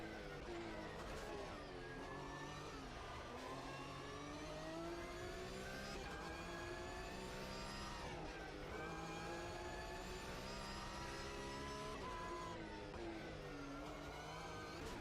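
A race car engine in Automobilista 2 at the Nordschleife revs up and down through repeated rising and falling sweeps as it shifts gears, strong and steady throughout with no speech over it.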